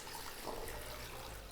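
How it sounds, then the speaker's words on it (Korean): Salted brine is poured over cabbage inside a storage bag for Korean kimchi, a steady, continuous liquid rush and splash lasting the whole moment with no voices. "Et on va verser l'eau salée dans le chou, dans"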